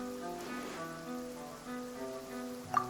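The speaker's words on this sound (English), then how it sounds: "standing in the rain is only my personal predilection" Steady pouring rain in a fantasy adventure game scene, a continuous soft hiss under sustained tonal background music, with one brief brighter splash or chime near the end.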